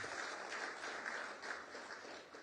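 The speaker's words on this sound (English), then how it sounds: "let's give him a very warm round of applause for that" An audience applauding Odisha Chief Minister Naveen Patnaik at a conclave, steady clapping from many hands that continues without a break, fairly faint and distant.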